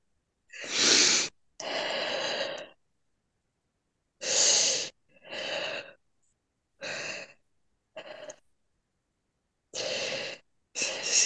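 Heavy, slow breathing from a person, a series of distinct loud inhales and exhales separated by pauses of silence, close and alone.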